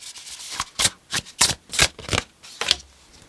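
Tarot cards are shuffled up close in a run of about seven crisp riffling bursts, brisk and papery, each a quick flutter with short pauses between.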